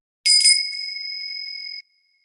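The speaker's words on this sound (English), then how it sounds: "We ring this bell to come together as one" Single bright strike of a small bell rung to call people together, a clear ringing tone that sustains evenly for about a second and a half before stopping cleanly, alone in silence.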